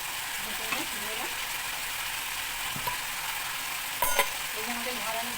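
Mutton mince sautés in a pan with ginger, garlic and green chilli, giving a steady, even sizzle broken by a few brief scrapes of a spatula against the pan.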